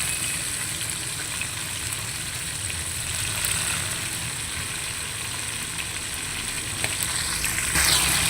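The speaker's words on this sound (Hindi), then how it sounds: "तो ये देखिए, ये भिंडी हमारी है ना जो ये फ्राई हो रही है।" Okra (bhindi) fries in hot oil in a pan, giving a steady, close sizzle with a light crackle throughout. Occasional faint scrapes and small bumps sit under it, and no one talks.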